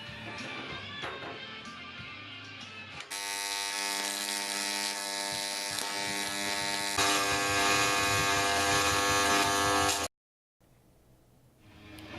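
A TIG welder fuses aluminum tabs onto a homemade folding aluminum truck bed cover. A steady, loud electric buzz holds for several seconds, then cuts off abruptly, and quieter shop noise follows.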